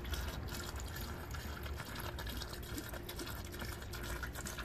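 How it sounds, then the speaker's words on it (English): Liquid additive pours from a bottle into a Honda Fit radiator as a faint, continuous trickling, gurgling stream, close up and steady throughout, with no talking. "half a bottle going down"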